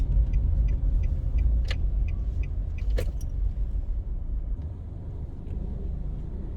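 A car drives through residential streets of a housing scheme in Kingston, Jamaica, its steady low engine and road rumble continuous throughout, with a couple of faint clicks and jingles inside the cabin and no talk.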